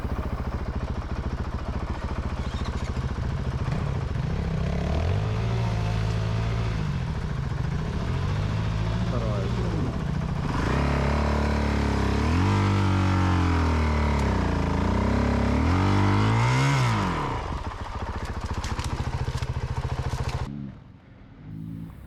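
Enduro motorcycles revving and pulling away one after another during an enduro race, loud continuous engine roar with rising and falling revs and clatter, fading near the end.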